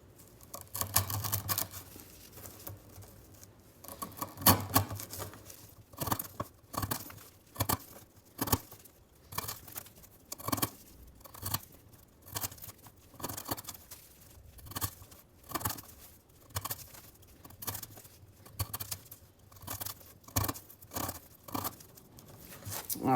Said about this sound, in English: we're gonna cut up some 1/2 inch twisted sisal rope